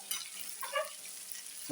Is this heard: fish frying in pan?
yes